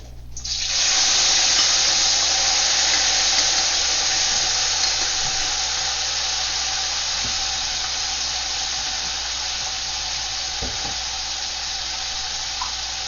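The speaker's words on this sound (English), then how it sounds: "I'm going to put some cooking oil into a hot wok. I'm going to cook the beef first." Beef sizzling in hot cooking oil in a wok, a steady loud broadband hiss that starts abruptly and holds for the whole stretch, easing only slightly toward the end.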